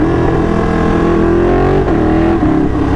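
A 2016 Ducati 959 Panigale engine drones loud and close under acceleration, its pitch climbing then dropping sharply at quick-shifter gear changes with auto-blipped rev flicks, and no talk.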